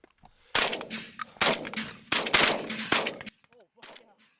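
Shotgun blasts at pigeons during a Pennsylvania pigeon hunt, several loud, close shots in two quick bursts followed by quieter bird sounds.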